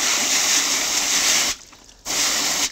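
Harvested carrots at a market garden are sprayed down with a water hose, a loud steady hiss of spray that breaks off for about half a second before starting again.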